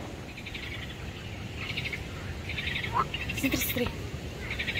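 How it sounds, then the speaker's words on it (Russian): Frogs croak in repeated pulsing bursts from a pond at moderate distance, with bird chirps mixed in and a person speaking briefly nearby. "прислушаемся и слушаем, как квакают лягушки"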